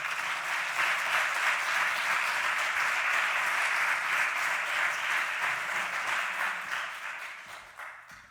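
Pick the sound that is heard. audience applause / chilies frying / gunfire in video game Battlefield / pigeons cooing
audience applause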